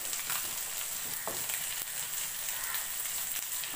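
Fish fries in a pan beside a simmering fish curry, giving a steady, close, even sizzle and hiss that holds throughout without a break.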